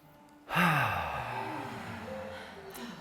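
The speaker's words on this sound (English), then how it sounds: "take that nice deep relaxing breath" A deep, relaxing breath taken during a Hatha yoga session. A sudden loud breath rushes in close to the mic, then a long exhale slowly fades, with a faint tone lingering underneath.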